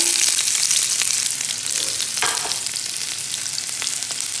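Onion frying in a splash of olive oil as the base for stuffed piquillo peppers: a loud, steady, close sizzle crackling throughout with small pops and no voices.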